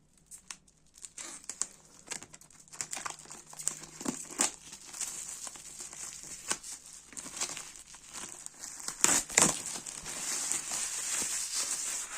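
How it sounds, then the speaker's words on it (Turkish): Plastic wrapping on 3D puzzle card sheets being torn open and crinkled close up, a series of crisp rips and rustles building to a sharp tear near the end. "Şimdi bu sayfaları açmak için öncelikle poşetini yırtmamız gerekiyor."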